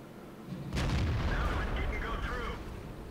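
A tank gun fires in the World of Tanks video game, one loud close boom followed by a rumbling tail and debris clatter, standing alone without talk.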